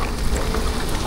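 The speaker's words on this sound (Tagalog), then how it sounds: "Hindi ko akalain na ganito po kalakas ang ulan dito ngayon." Steady, dense, warm rain pours down during a thunderstorm, a broad continuous hiss with low rumbling beneath it and no voices.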